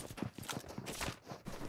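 Horse hooves clip-clopping in the PUBG Mobile video game, a steady rhythmic trot of close, dull thuds over a dense game ambience, with no voices heard.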